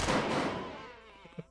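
Burst gunfire in the video game Quasimorph: a loud, dense volley of shots at the start that decays over about a second, followed by a couple of fainter thuds.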